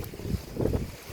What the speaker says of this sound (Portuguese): Aqui tá um vento já bem estranho